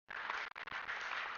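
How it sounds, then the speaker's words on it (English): A round of applause at the grand final of an SPL XX APL match, dense steady clapping from a crowd filling the moment, briefly dipping twice before carrying on. "Just a round of applause for Care Next Level."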